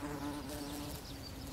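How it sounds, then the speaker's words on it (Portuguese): Flies visit Lapeirousia silenoides flowers, making a continuous close buzzing drone with a steady pitch and no pauses. "Estas moscas são as únicas polinizadoras da flor da espécie Laperousia silenoides."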